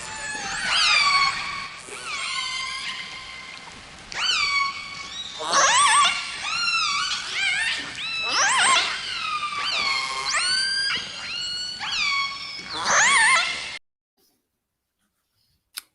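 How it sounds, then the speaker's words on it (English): Orcas of a northern resident pod off northeastern Vancouver Island call in a busy series of loud rising and falling squeals and whistles, overlapping for about fourteen seconds before silence. "It's the dialect of a very well-known group of whales up off northeastern Vancouver Island, a northern resident pod of orcas"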